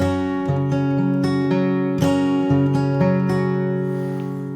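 Acoustic guitar fingerpicked with the thumb on the bass strings and a flick down across the treble, shown in a folk accompaniment. Ringing open chord tones with evenly spaced plucked notes and alternating bass, close and clear, with no voice.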